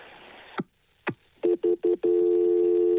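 A telephone line rings during a call transfer: a few clicks, then four short ring bursts in quick succession, then one long steady tone, close and clear over faint line hiss.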